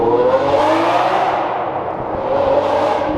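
Lamborghini Aventador driving, a loud continuous engine roar with rising and falling revs heard from inside the car.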